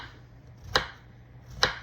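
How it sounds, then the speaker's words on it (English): Two crisp knife chops through yellow squash on a cutting board, close and isolated, spaced just under a second apart with quiet kitchen room tone between. "So cut up your squash."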